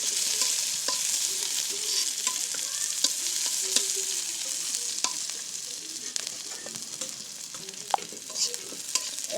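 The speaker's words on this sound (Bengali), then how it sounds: "এগুলো লাল লাল করে ভাজে নিব।" Chopped onion and green chili fry in a pan with a continuous, fairly soft hiss dotted with small pops and crackles. The sound runs unbroken for several seconds, with no voices.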